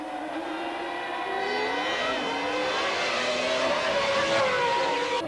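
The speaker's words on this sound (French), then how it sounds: "Schumacher place une attaque imparable et la Jordan Honda cède la place à la Ferrari" Formula 1 race cars from 1998, a Ferrari and a Jordan Honda, scream at high revs with a steady, loud whining engine note that shifts in pitch as they race close by, with no talk.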